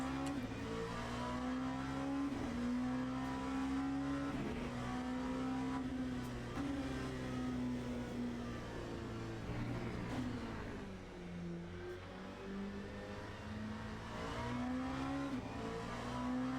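An LMP2 prototype race car engine in the Le Mans Ultimate racing game, a continuous loud high-revving drone that rises and falls through gear changes and braking, steady throughout with no talking.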